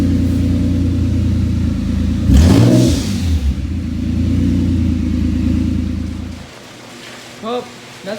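Infiniti G35 coupe with a Tomei catback exhaust revving loudly, a deep steady drone swelling into a sharp rev near the middle, then settling before dropping off; voices briefly audible near the end.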